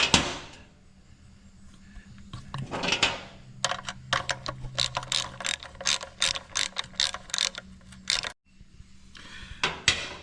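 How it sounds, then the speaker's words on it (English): A 9/16 ratchet wrench loosens a bolt on a Harley-Davidson Softail Evo during an oil change, giving a few short clicks followed by a long, rapid series of close, sharp ratcheting clicks. "So we're going to take a 9/16. We're going to loosen this up."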